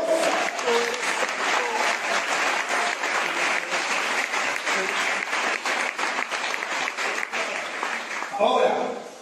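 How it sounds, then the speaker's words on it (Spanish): A Pentecostal church congregation breaks into dense, sustained applause that fills the room without a break, with voices calling out within it. "Mejórele ese aplauso"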